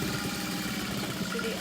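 Sewing machine stitching a half-inch seam in vinyl with the stitch length set to 4 runs as a steady, continuous mechanical hum, close and fairly quiet, with no speech over it.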